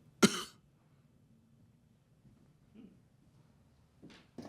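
A single sharp, loud cough up close, followed by quiet, then a small throat sound and two more faint coughs near the end.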